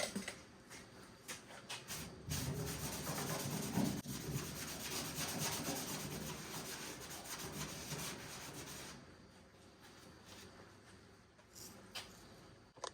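80 grit sandpaper scrubs the body of a Vendo 39 Coke machine ahead of fiberglassing, a rough rasping rub in bursts from about two to nine seconds, close up and alone, then fading to quieter strokes.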